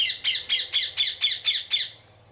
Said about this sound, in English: That's a parrot.